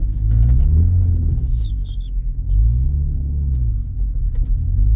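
A 2006 BMW X3 E83 with the 3.0i straight-six engine while driving, a steady loud low rumble from inside the car, rising and falling slightly with the throttle, with no talking.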